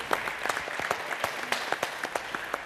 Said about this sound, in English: Big applause to the panel.